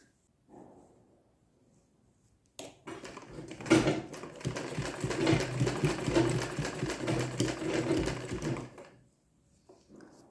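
A domestic sewing machine stitching the corner of a kurti collar runs in a steady close whirring burst for about six seconds, preceded by a short quiet stretch of handling, with no talking over it.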